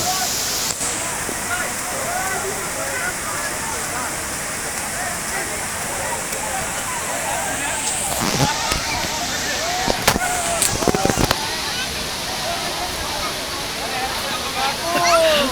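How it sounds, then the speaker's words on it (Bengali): The Mayabi waterfall at Jaflong in Sylhet, during the rainy season, sends up a constant, dense roar of falling water that fills the whole scene, with a few sharp knocks and splashes breaking through near the middle. "এই মায়াবী ঝর্ণা দেখুন দর্শন করুন"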